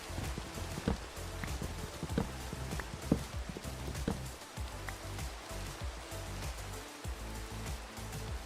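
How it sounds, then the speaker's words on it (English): Rain falling in the Minecraft video game, a steady hiss of dense patter with scattered sharper drop ticks, continuous and moderately quiet throughout with no voices. "Why does it have to rain?"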